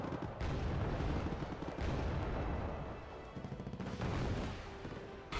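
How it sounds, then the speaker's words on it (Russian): An MG3 machine gun in a video game fires dense, sustained bursts, loud and rumbling, with a brief break in the middle before the firing resumes. "Пулемет МГ-3"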